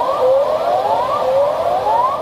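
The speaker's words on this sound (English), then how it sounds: "Sirens echoed as hundreds ran into the streets of Santiago" Wailing emergency sirens echo through the streets of Santiago after an earthquake, rising and falling in steady repeated sweeps over a constant background roar, with no voices.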